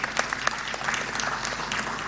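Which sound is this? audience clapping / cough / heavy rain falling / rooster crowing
audience clapping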